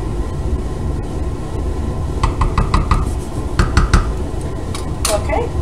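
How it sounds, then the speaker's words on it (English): Italian meatballs in a pot of sauce are gently stirred, a spoon clinking and tapping against the pot in light irregular knocks over a low simmering background. "now I can just gently give them a bit of a stir"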